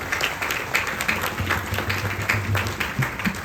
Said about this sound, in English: put your hands together and give the committee of Ramayan in the Park a nice round of applause